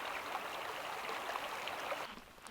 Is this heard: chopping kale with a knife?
no